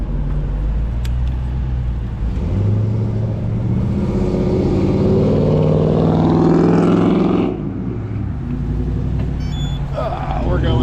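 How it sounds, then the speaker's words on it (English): Busy road traffic rumbles past a cyclist, with loud, continuous engine and tire noise swelling as a vehicle passes close by, then easing, under steady wind noise. "Lots of traffic."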